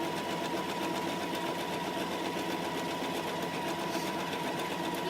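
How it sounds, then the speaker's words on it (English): A sewing machine stitches straight down the middle of a small fabric square, a steady, fast mechanical whir that runs unbroken at close range, with no speech. "So I'm on my 4th little square now, just sewing down the middle."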